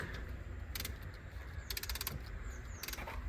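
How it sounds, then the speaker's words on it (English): Ratcheting wind-back tool retracting a brake caliper piston on a Citroen C2 VTS during a pad and disc replacement, with three short bursts of rapid clicking over faint background hum, close but quiet. "He's ratcheting it back nicely. It is a really convenient tool."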